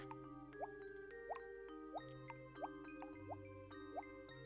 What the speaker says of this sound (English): sounds like a nasty little post-Arctic drip